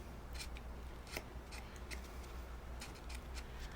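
Scissors trim the edges of Shadowland Tarot cards close by, with crisp, quiet snips repeating at an irregular pace over a low steady hum.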